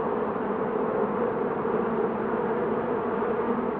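A bumblebee buzzing steadily and close, a continuous dense drone with no breaks and no other sounds.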